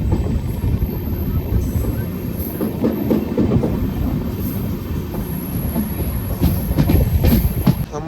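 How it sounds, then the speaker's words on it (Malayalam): Guruvayur–Madurai Express with LHB coaches rolling slowly into Kayamkulam Junction, a steady rumble of wheels on rail with scattered clicks and faint squeals, continuous and close throughout. "നമ്മളൊരു 34 മിനിറ്റ് ഡിലേയോടുകൂടി കായംകുളം ജംഗ്ഷൻ വന്ന് കയറിക്കൊണ്ടിരിക്കുകയാണ് നമ്മുടെ മധുര എക്സ്പ്രസ്"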